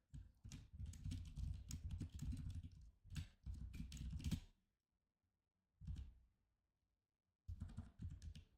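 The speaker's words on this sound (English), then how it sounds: "If you're really professional investor, you don't use your mouse, you just fly in on the keyboard." Rapid typing on a computer keyboard, with dense bursts of keystrokes for several seconds, a pause, a brief flurry, then another run of quick clicking, close and clear with no talk.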